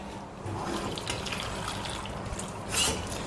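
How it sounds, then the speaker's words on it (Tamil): Water pours steadily into a pot of vegetables for sambar, a continuous splashing stream with a brief louder gush near the end. "கொஞ்சம் தண்ணி ஊற்றி வேக வச்சிடலாம்."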